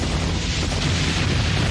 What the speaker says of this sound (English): These are big explosions.